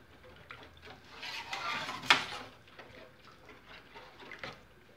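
A spoon stirs béchamel sauce in a pan for a potato gratin, making soft scraping swirls with one sharp clink against the metal midway, close and fairly quiet.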